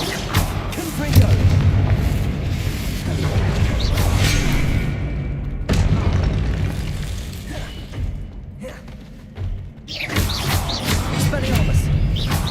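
Confringo blasting spells from the Hogwarts Legacy video game go off as deep booming explosions, one after another, with shattering crashes and brief lulls between the blasts.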